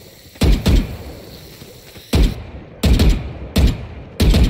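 Gunshots in a first-person shooter video game, striking walls in separate loud bursts: a quick double shot, then a pause and four more sharp single reports spaced roughly a second apart.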